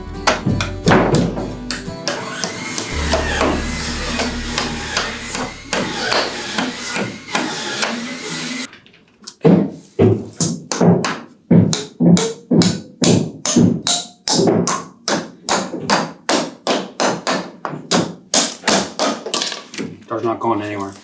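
Sharpened wooden shims hammered into holes while fitting a pocket door: a long series of sharp, evenly spaced hammer blows up close, some with thumping resonance, following a stretch of handling noise and background sound at the start.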